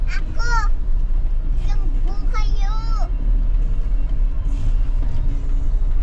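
A car drives over a rough road toward a tidal pool, its engine a low, steady rumble heard from inside the vehicle, while children and adults talk loudly over it.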